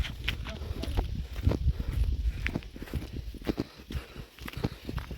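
Bullocks walk near a river, their hooves clopping in an uneven, close rhythm, with people talking over and around the steps.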